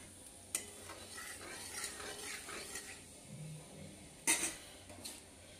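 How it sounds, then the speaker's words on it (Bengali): Nigella seeds sizzle softly in hot oil left from frying fish, a faint steady crackle broken by a couple of sharp metallic clinks of a utensil against the pan. "এবার আমি ওই তেলে খুব সামান্য একটু কালো জিরে ফোড়ন দিয়ে দিলাম।"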